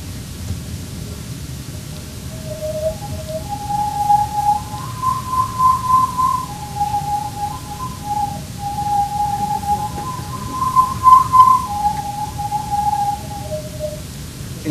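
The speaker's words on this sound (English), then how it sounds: "I'm just going to twirl the tube" A plastic tube swung in circles sounds soft whistling tones that step between a few distinct harmonic pitches rather than sliding smoothly, rising and falling over a steady airy whoosh for about fifteen seconds.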